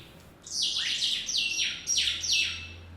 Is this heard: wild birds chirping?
yes